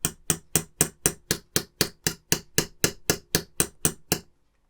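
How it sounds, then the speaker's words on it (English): Steady metal hammer taps drive parts into a Mitsubishi A6M Zero fighter model kit, about fifteen crisp evenly spaced strikes close by, heard alone and stopping abruptly. "I am just going to get my hammer on them just to make sure they're in"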